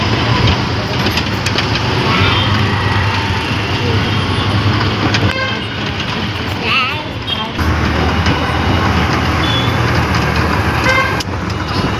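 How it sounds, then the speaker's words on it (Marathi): A train arriving at Akola from Washim, a loud continuous rumble of rolling carriages and engine noise close by, with horn-like tones and clatter throughout. "वाशिमवरून अकोल्याला ट्रेन पोहोचली."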